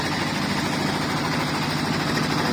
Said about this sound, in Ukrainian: техніка працює гучно, так що вибачайте